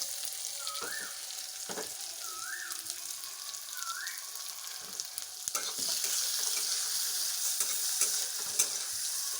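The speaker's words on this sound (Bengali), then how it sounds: "এবার আলুগুলো ভাজা হোক" Potatoes with turmeric fry in a pan, crackling and sizzling steadily, with occasional utensil scrapes and knocks; the sizzle grows louder and fuller partway through, close up with no voices.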